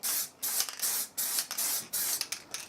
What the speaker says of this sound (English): I like to clear the nozzle out just for spray painting.